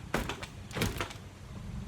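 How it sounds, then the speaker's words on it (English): A house's front door in Evansville, Indiana opens as someone steps outside, a few close clattering knocks and a latch-like rattle in quick succession, then quiet room tone. "Just going out my front door here."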